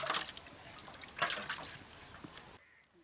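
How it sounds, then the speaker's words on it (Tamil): Water splashes and trickles in uneven pours over a fire-singed goat head in a container, close by, then stops abruptly. "நெருப்புல சுட்ட தலையை இப்போ தண்ணி ஊற்றி கொஞ்சம் க்ளீன் பண்ணிக்கலாம்"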